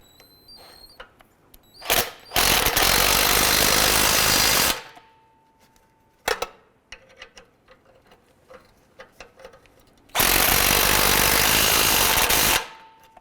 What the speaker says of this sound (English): we're going to tighten down our bolts here for our downpipe